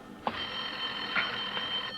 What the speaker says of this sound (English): Oh, Lorna, there's a phone.